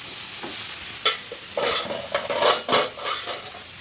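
Mixed vegetables frying in hot oil for South Indian sambar crackle with a steady sizzle, broken by repeated scraping stirs of a utensil against the pan.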